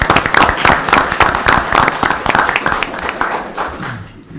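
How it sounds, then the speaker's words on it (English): At a city council meeting, a small gathering gives a round of applause with scattered, fairly close clapping that thins out and fades toward the end. "How about a round of applause for"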